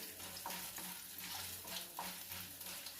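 Oil tempering for ridge gourd dal crackles in a pan as it is stirred, a quiet, even sizzle with soft scraping strokes throughout.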